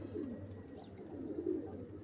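Flying pigeons kept by a fancier coo faintly in a quiet setting, a few soft, low warbling calls rising and fading close by.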